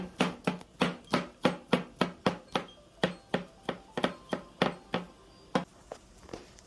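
Long beans are crushed with a knife on a cutting board, about fifteen sharp, regular thuds close by, slowing and spacing out toward the end with no talking.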